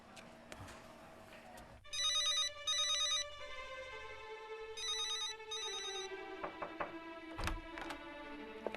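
Telephone ringing after a number is dialed: two electronic ring bursts, each a pair of rapid warbling trills, separated by a pause, with other tones and clicks around them.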